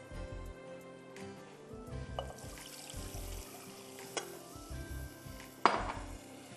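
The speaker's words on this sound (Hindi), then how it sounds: "हर चीज़ मिक्स कर दीजिए और आप इसमें डालिए दूध" Milk poured into a white sauce mixture for lasagna, with a bouncy chicken stock cube already added: close pan and utensil clatter, a soft, trickling pour and one sharp clink near the end.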